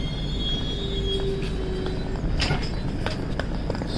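A passenger train on a journey from Kerala toward Mumbai rumbles along steadily in a loud, continuous roar of wheels and carriages, with a thin drawn-out squeal of wheels on the rails and occasional clacks rising above it.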